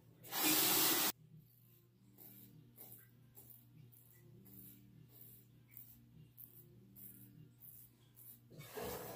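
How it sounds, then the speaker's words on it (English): Water runs in a short, loud hiss as a Rockwell 2C safety razor is rinsed under the tap. A quieter stretch of faint rubbing and tapping follows, then the spray returns at the end. "time to rinse the razor"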